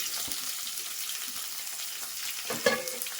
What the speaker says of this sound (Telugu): వేసుకొని బాగా వేయించుకోవాలి